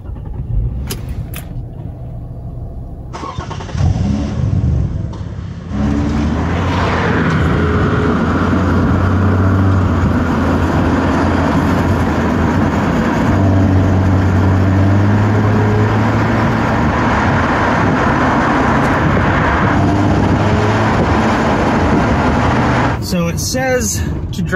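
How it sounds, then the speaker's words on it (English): A Jeep WK engine, run on Seafoam for carbon cleaning, cranks and catches, then runs steadily with a loud, rough idle and low rumble for most of the clip before cutting off near the end. "When I do start it, the engine's gonna, struggle just a little bit"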